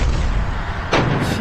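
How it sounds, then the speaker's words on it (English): Shells from a Ukrainian Bradley's 25mm cannon burst around a Russian BTR, two sharp broadband blasts cutting through a constant roar of heavy background noise, close and loud. "We can see shells exploding around the vehicle."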